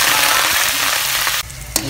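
Oil sizzles and crackles loudly as small anchovies fry in a pan, a dense hiss that drops off abruptly near the end with a faint clink.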